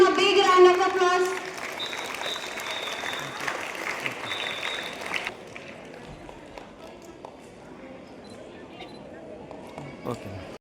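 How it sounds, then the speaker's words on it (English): Students applaud at a school event, the clapping strongest in the opening seconds and then fading to a softer, scattered patter under a general room murmur. "Students, give them a big round of applause."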